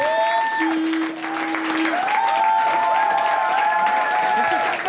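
An audience at a French stand-up comedy show claps loudly and steadily, mixed with a few cheers and whoops, while a voice and a sustained tone sit on top of the applause.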